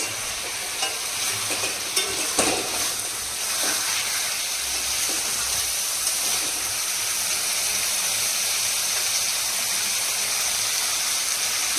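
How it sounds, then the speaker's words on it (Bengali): Tap water poured into a pot of meat that has been cooking down in oil, giving a steady loud hiss and sizzle with stirring noises throughout, with no talking. "আজকে ডাইরেক্ট ট্যাবের জল দিচ্ছি"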